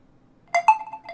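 A Huawei P20 Pro ringtone at maximum volume plays a brief electronic melody of a few quick notes, clear and close, after a moment of near silence.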